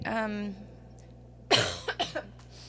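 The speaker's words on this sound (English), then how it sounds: "There's that flu cough again." A single sharp cough rings out after a short vocal sound, followed by a couple of smaller coughs or throat noises in a quiet room.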